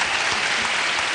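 A television studio audience applauds maestro Horacio Saavedra in a brief, loud, dense burst of continuous clapping.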